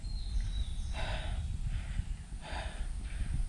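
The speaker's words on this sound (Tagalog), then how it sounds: "Ang naririnig ko lang yung hininga ko. Yung paghinga ko, kapoy." A rider breathes heavily after a ride, with close, audible breaths repeating in an uneven rhythm over a low background hiss.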